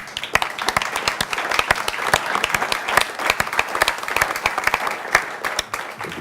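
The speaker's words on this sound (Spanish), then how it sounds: "una ovación que vamos a dar en su recuerdo." An audience at a San Sebastián film festival event gives a sustained ovation in memory of someone, dense close applause with individual claps standing out and no voices.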